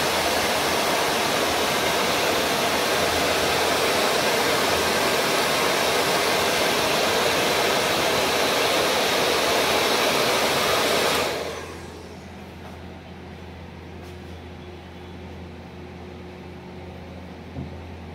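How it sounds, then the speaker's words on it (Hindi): A hair dryer blows loudly and steadily as hair is wound onto a small round brush for curls, a constant close rushing roar that cuts off after about eleven seconds, leaving quiet room tone. "फोल्ड के साथ साथ आपको इसको ड्रायर चलाते हुए आना है"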